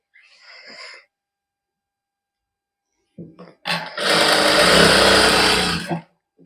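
Sewing machine stitching lining onto a shirt, a dense continuous whirring run of about two seconds, close and loud. It follows brief bits of speech and handling noise.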